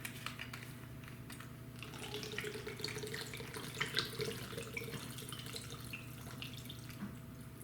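Coconut water pouring into the Tritan jar of an Oster Pro 1200 Plus blender for a fruit and veggie shake, a continuous splashing trickle with small gurgles, close and fairly quiet.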